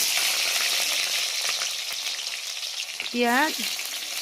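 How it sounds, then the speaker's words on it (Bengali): Onions frying in oil on a clay stove, a steady broadband sizzle running the whole time, close and fairly loud, with a brief high tonal squeal or cry cutting in near the end. "এখন আমি তেলে দিয়ে দিব পেঁয়াজ"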